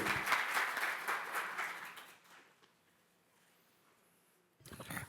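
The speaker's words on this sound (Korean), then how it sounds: "큰 박수 부탁드리겠습니다" Audience applause at a Korean guardianship conference plenary session, a dense crowd clapping that fades out over a few seconds before a brief silence, then a voice starts.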